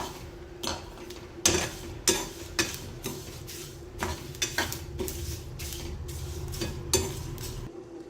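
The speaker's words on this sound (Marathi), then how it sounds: "2 मिनिटासाठी भाजून घेऊया" Masala spices are dry-roasted and stirred in a pan, a utensil knocking and scraping against the metal in a run of sharp, regular clacks over a faint low sizzle, close and moderately loud, with no talk.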